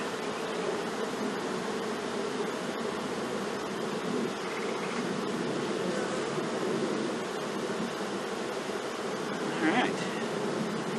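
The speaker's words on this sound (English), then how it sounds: "Brand new bees." A honey bee swarm, just emptied out of a bucket, hums in a steady, dense buzz that stays loud and continuous throughout, with no talk over it.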